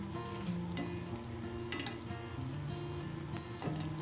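Apple wontons fry in hot oil with a steady, close sizzle and bubbling, broken by a few sharp crackles and pops as they are turned, with no voices.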